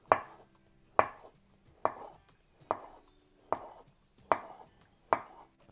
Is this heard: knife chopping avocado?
yes